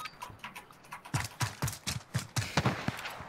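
An AUG rifle fires in rapid bursts in a video game, a quick run of sharp, evenly spaced shots that grows denser and louder toward the end.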